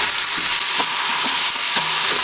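Potatoes frying in hot oil, a steady loud sizzle with faint scraping stirs and clicks over it, no talking.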